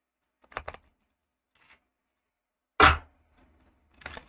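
Tarot card deck being shuffled by hand, a few short papery riffles and slaps separated by pauses, close and fairly quiet, with one louder burst in the middle.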